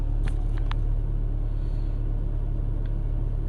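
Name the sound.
car approaching on the road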